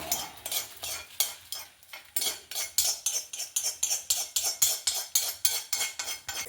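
Coriander seeds dry-roasting in a pan for puliyogare powder, a spatula stirring and scraping in a fast, regular rhythm of crisp rattling strokes, close and fairly quiet, with no talk.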